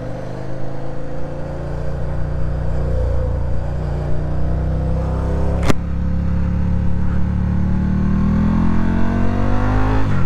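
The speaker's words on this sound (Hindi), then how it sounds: "भाई इधर पता नहीं किस बात का इतना ट्रैफिक है।" Riding a motorcycle lane-splitting through heavy Indian road traffic, a close, loud, steady engine rumble drones on with slight rises in revs and passing vehicles around, and no voices.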